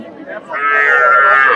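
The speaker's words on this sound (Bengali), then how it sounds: "দেশি জাতের গাভী" A native breed cow at a cattle market gives a loud, close, drawn-out moo that swells and holds for over a second.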